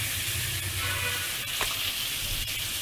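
Red potatoes frying in oil in a pan for aloo dum give a steady, close sizzle with light crackling and occasional stirring clicks, continuous and even throughout.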